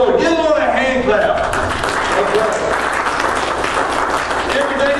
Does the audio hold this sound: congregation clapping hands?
yes